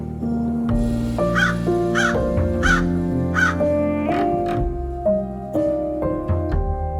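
Several crows caw loudly and repeatedly over background music, their harsh calls coming in quick irregular bursts.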